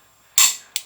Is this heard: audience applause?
no